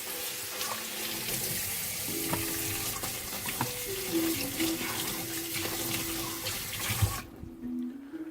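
A kitchen tap runs steadily for hand washing beside a cooking stovetop, a continuous close hiss of water with faint clinks and a tonal whine, cutting off near the end.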